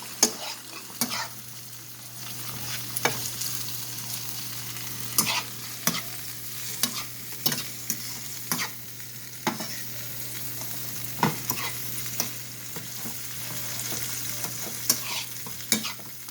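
Tomato sauce with scallions simmers and fries in a pan, a steady soft sizzle punctuated by frequent sharp utensil clicks and scrapes against the pan, close by.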